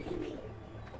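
Pigeons of the Magnet line, a breeding pair kept at a home loft, give a low continuous coo, steady and fairly close, with no talking over it.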